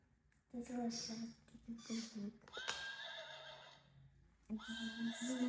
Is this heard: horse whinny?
yes